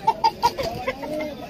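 Chickens cluck in quick, close bursts at a crowded street market in Delhi's Chor Bazaar, several short calls followed by softer clucks over a low bustle.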